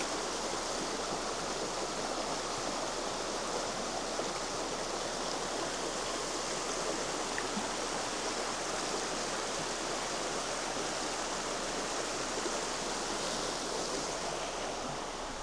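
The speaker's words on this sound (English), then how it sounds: "This is Cedar Creek." Cedar Creek in a soaked, slippery Montana forest runs steadily close by, a continuous broadband rush of flowing water with no pauses and no talk.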